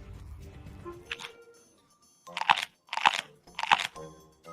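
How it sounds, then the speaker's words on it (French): A crunchy sandwich is chewed close to the mic, three sharp crisp crunches in a steady rhythm after an earlier single bite, loud and alone with no talk. "C'est tellement croustillant et c'est tellement dur à mâcher."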